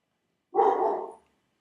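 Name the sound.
dog barking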